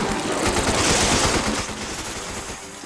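Rapid bursts of automatic gunfire from a Resident Evil 5 co-op session, loud and dense with repeated shots over the first half, then tapering slightly into a sustained rattle.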